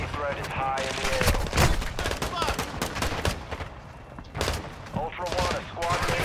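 Rapid bursts of close gunfire in the Call of Duty DMZ video game, rattling and cracking throughout, with people talking over the shooting.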